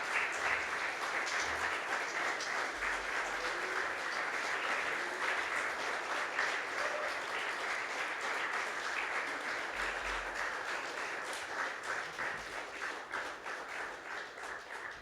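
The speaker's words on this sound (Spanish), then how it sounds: "Dale un aplauso al Señor," A church congregation applauds in praise during a Spanish-language service, sustained dense clapping at moderate volume that carries steadily for the whole stretch and slowly thins toward the end.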